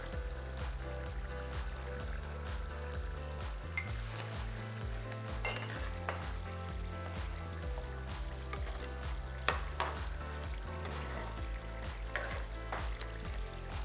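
Tablespoon of garam masala added to a hot pan and stirred, a continuous sizzle and frying crackle with occasional spatula scrapes and clinks, steady and close throughout, with low background music underneath.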